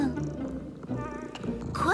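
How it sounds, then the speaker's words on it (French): A cartoon cat meows and purrs in an animated fantasy scene, the sound blending with music and voice-like tones over just under two seconds at moderate loudness. "Oh, Rascal vous a fait peur. J'ai toujours des biscuits pour chat avec moi."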